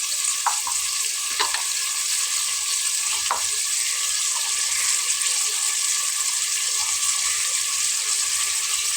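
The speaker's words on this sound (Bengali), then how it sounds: "এবং একে একে আমি গুঁড়া মশলাগুলো দিয়ে নেব।" Ground spices, coriander powder among them, fry with meat in a hot pan, giving a steady, loud, close sizzle throughout with a few faint clinks of a spoon against the pan.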